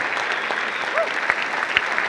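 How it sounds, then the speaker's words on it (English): An indoor audience applauds steadily throughout at a live debate event during the Avondhu Rally 2019, with dense continuous clapping that shows no clear cheering. "give a massive cheer for the Rally Committee"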